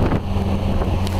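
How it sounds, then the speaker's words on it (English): Wind gusting in a Timon & Pumbaa video game, a steady broadband rush with low rumble filling the whole short moment, heard alone without voices. "And it's getting windy."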